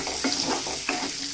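Capsicum sizzling with ginger-garlic paste in a hot pan, a constant fry hiss with several clattering stirs of a spoon, close up and with no talking.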